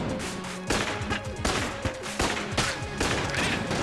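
Rapid game gunfire from new faceted bullets in Enter the Gungeon, dense repeated shots and impacts in quick rhythmic bursts over busy background music, continuous and loud.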